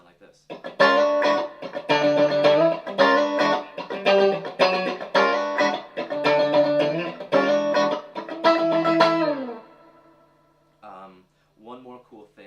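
Electric funk guitar plays a rhythmic chord progression that turns back to E. Crisp, choppy strummed chords come in a steady groove for about nine seconds, then a ringing chord fades before a few faint scattered notes.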